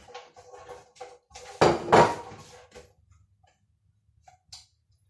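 Brown onions being dropped into a cooking pan in a home kitchen. A sharp clattering burst of metal and food lands loudly among lighter scattered clinks and taps, then the sound fades to near quiet.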